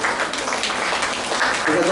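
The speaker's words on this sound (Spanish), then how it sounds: "un fuerte aplauso a nuestro hermano Rubén Ponce." A congregation at the 78th anniversary gathering of a Spiritist school in El Salvador gives a round of applause, a dense and fairly loud wash of clapping that lasts about two seconds, with voices faintly under it.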